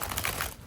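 Bridge shuffle of a Morbid Mirror Oracle card deck, a quick close burst of riffling, flapping card edges ending in a brief soft settle, with no talking.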